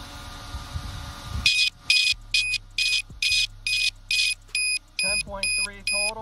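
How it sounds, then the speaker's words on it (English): A LiPo battery low-voltage alarm beeps in a rapid, evenly spaced series of loud, shrill pulses near an RC model, after a brief stretch of background noise. "One of the cells is a little low and triggered my low voltage alarm"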